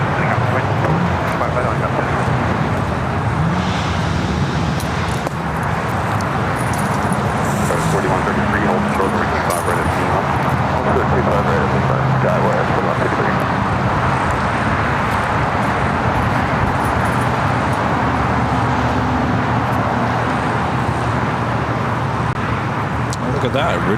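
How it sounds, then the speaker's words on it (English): Boeing 777-300ER jet engines of an Air France airliner spool up for takeoff at LAX, a steady broad roar that holds throughout at a distance, mixed with nearby road traffic, while people talk over it. "That's Air France 777-300ER lighting up. Should have a south side takeoff."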